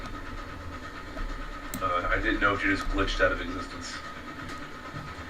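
Train in the multiplayer game Railroads Online, a low steady rumble with faint rail clatter running beneath people chatting.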